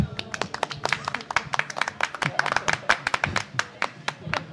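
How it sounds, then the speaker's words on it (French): A small group clapping in quick, uneven bursts close by, with scattered voices mixed in. "Bravo, applaudissez-vous."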